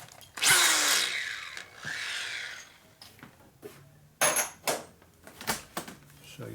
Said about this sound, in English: you deburr the hole so the top thread doesn't pull up into the inner primary